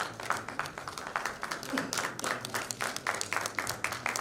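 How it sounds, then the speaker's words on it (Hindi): Hands clap through a crowd at an induction cultural programme, sounding as a scattered, uneven clatter of many claps that carries on with a faint voice in the background. "तो एक बार जोरदार तालियां।"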